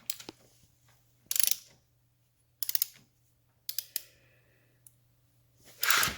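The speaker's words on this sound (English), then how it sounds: "Now we're ready to torque it down to 45 foot-pounds." A torque wrench ratchets on a 1974 Norton Commando engine bottom-end bolt, tightening to 45 foot-pounds: short, close bursts of rapid clicking repeat several times, separated by quiet pauses.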